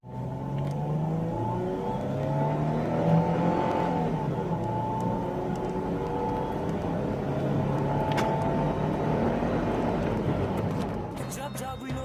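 A 1996-2002 Toyota 4Runner engine runs and revs steadily at close range, with a continuous low rumble that holds fairly even throughout before a brief change at the end.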